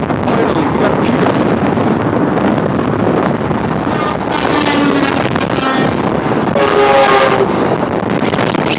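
A tractor-trailer air horn blares on the I-10 highway, several sustained tonal blasts cutting through loud, constant traffic roar and wind buffeting.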